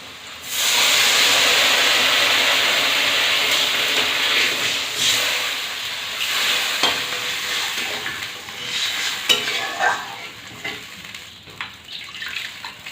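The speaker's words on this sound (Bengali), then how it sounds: "ঝোল ফুটে উঠেছে" Fish curry gravy with tomato and turmeric boils in a pan, giving a steady loud hiss and bubbling that sputters and crackles more unevenly toward the end, with no voices.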